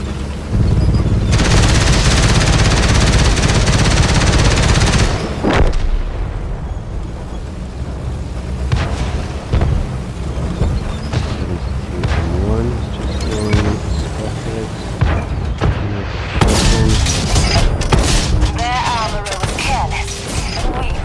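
Tank gunfire in World of Tanks on console: a loud sustained roar of cannon and engine noise opens the scene, followed by further booming shots and rumbling battle sounds, with a voice talking over parts of it.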